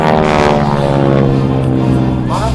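Propeller warplanes fly low and loud in a Pearl Harbor attack reenactment at an air show, a steady droning engine roar held throughout with harmonic hum.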